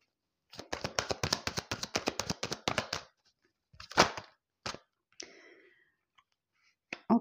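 Tarot cards are shuffled with a fast run of crisp riffling clicks for a few seconds. A couple of single card snaps and slides follow as a card is drawn, close up and moderately loud.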